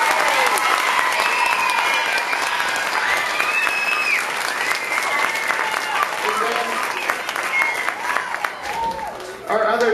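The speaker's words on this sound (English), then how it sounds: "if you could give them applause" An audience at a school program claps in sustained applause, a thick continuous patter with scattered voices and cheers mixed in, thinning out toward the end.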